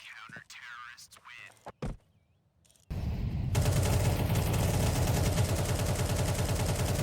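Sustained rapid gunfire from Counter-Strike players spraying through smoke grenades during a competitive match, loud and continuous after a brief quieter stretch with a few isolated shots and game sounds.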